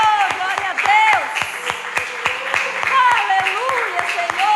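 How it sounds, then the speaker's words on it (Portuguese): A church congregation claps along, with rhythmic hand claps throughout under a preacher's loud, energetic voice. "Vamos aplaudir esse Deus, irmão."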